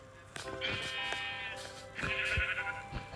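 Sheep bleating in a blocky video game, two drawn-out wavering bleats separated by a short pause, with faint clicks and game noises around them.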